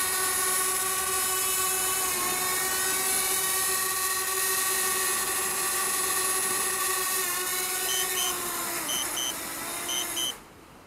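DJI Spark drone hovering close with a high, steady propeller whine that dips in pitch as it settles onto a 3D printed landing pad. Repeated beeps follow, then the motors cut out.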